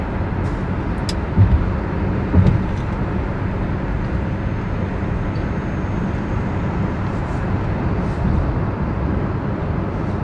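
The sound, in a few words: Hyundai Ioniq 5 EV driving on road, lane change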